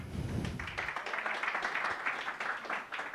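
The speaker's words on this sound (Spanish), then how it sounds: "Un fuerte aplauso, hermanos." Applause from a church congregation at a Sunday service, a dense steady patter of many hands clapping that swells after a brief low rumble and holds moderately loud throughout.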